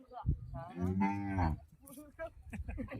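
A jallikattu bull lets out one deep, sustained moo lasting under a second, close and fairly loud, while people talk nearby before and after it.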